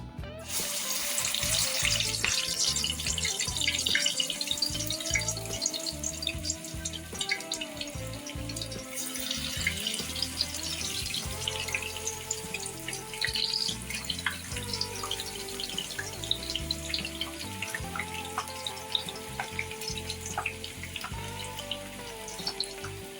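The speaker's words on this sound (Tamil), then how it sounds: "நம்ம இப்போ பொரிக்க ஆரம்பிச்சிடலாம்." Steady sizzling and bubbling of palak potato pakoda frying in hot oil, continuous and close, with faint clinks and crackles throughout.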